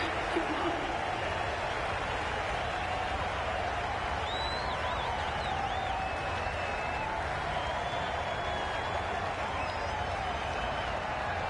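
Crowd applause from a cricket match in the video game Cricket 22, a steady broad wash of clapping and cheering that fills the whole stretch at an even level, with a commentator's voice faint underneath.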